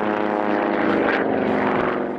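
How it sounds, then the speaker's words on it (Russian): Two Yak-18T propeller planes, tied together by a rope, fly past at an aerobatic display with a loud, continuous droning engine roar that swells slightly as they pass. "Вот связанные друг с другом веревкой пролетают два Як-18Т."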